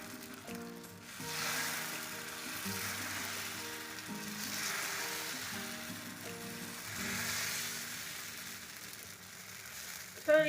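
Pesarattu (green gram) batter spread on a hot pan sizzles in a steady, even hiss, with a soft low background hum and a short clack right at the end.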